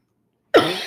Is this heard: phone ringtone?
no